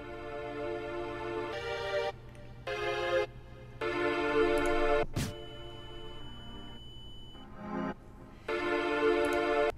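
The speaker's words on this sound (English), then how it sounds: "use ducking for a flashbang effect" Background song ducked to low volume while a sharp flashbang-style burst plays in a SoundManagerPro Unity demo; music blocks stop and start around a single loud crack near the middle.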